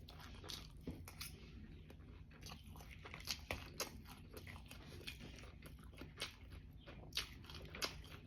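Crunchy fried fish being bitten and chewed, with repeated crisp crunches and mouth sounds in a steady irregular rhythm, close and moderately loud with no talking.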